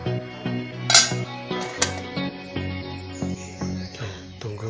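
Metal lid set onto a pot of simmering village-style fish soup, a few sharp clanks and rattles with ringing metallic tones, close and distinct, amid light kitchen clatter.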